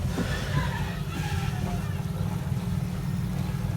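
A boat engine with a repaired water cooling system drones steadily at a constant low throb, loud and close, with faint voices and background activity over it.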